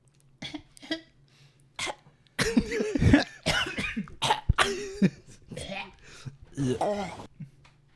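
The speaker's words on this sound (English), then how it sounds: "And cough when you need to cough." Several harsh coughs and throat-clearing bursts, close and loud, with short quiet gaps and some speech mixed in.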